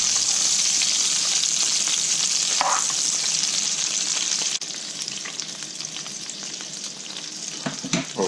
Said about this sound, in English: Give them the last bit of a basting